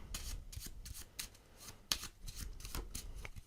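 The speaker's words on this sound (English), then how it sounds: "you can give it a shuffle again" Crisp riffling bursts of a card deck being shuffled, repeated several times in quick succession, close and fairly quiet, with no talking.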